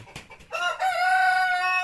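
A Leghorn rooster crows once nearby in a new coop, a loud drawn-out call after a couple of short clucks.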